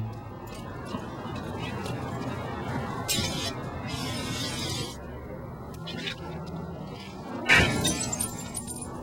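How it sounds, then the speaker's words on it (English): A Molotov cocktail firebomb smashes through untreated glass, a sharp shattering crash near the end that rises above a continuous rumbling background, with smaller hissing bursts earlier. "Untreated glass is no match for a firebomb."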